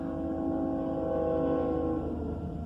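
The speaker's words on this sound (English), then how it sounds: "here comes another train, sorry." A train passes nearby, giving a continuous loud rumble with a sustained horn-like tonal drone that holds steady throughout, and no voices are heard.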